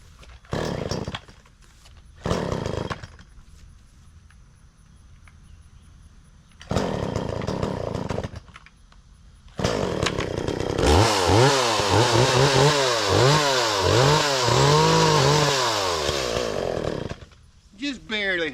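A chainsaw cutting a tree roars in several short bursts, then runs long and loud, its pitch wavering as it bites into wood before cutting off.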